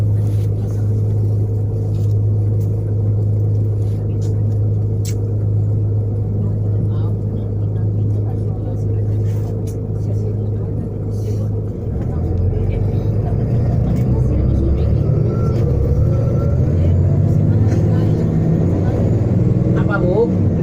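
Tour bus driving through Singapore, its engine a steady low rumble with road noise that shifts in pitch partway as the bus changes speed or turns, heard from inside the cabin.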